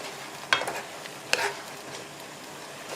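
Sliced shiitake mushrooms stir-fry with seasoned, lightly cooked beef in a pan, giving a faint steady sizzle broken by two brief, sharp scraping stirs.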